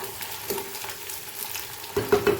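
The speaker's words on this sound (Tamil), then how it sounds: "இந்த பக்கம் வந்து நமக்கு வெங்காயம் வந்து சூப்பராக ரெடி ஆகிட்டுருக்கு. அதையும் வந்து நம்ம லைட்டாக கிண்டி விட்டுருவோம்." Onions fry in a pan for ghee rice, a steady soft sizzle under a few scraping stirs of a utensil near the end, close, with no talking.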